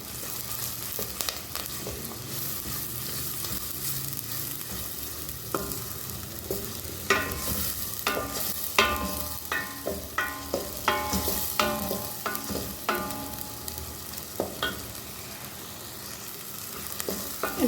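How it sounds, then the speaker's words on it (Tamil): Ground ginger garlic paste frying in a pan, a steady sizzle with a sharp burst of crackling and spatula scrapes and stirs through the middle, no voices. "இனி நாங்கள் இதுக்குள்ளே அரைத்த இஞ்சி வெள்ளைப்பூடு பேஸ்ட்டையும் சேர்த்து கொள்வோம்"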